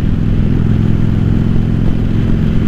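A Yamaha Virago XV750 bobber motorcycle being ridden, a steady loud low engine drone with constant wind rumble, close and continuous with no talk.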